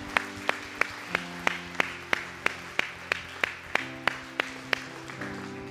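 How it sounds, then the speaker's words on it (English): A church congregation claps in a steady, even rhythm, about two claps per second, over sustained keyboard or organ chords, with moderate loudness throughout. "Can we just give the Lord an applause?"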